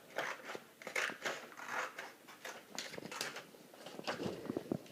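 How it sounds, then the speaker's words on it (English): Scissors snip through a paper clock cutout along a dotted line, a quiet, close series of irregular crisp cuts and paper crackles with short pauses between strokes. "I need you to cut on the dotted line."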